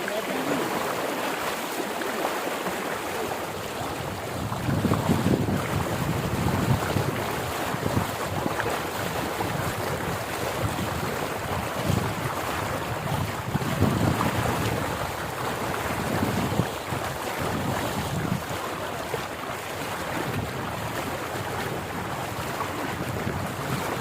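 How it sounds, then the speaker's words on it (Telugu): Floodwater from the overflowing Peddapuram stream rushes across the submerged Gudivada road near a bridge, flooded paddy fields all around, a constant loud roaring wash mixed with wind buffeting the microphone. "ఎంత దారుణంగా నీరు వస్తుందో చూడండి, మరీ దారుణంగానే"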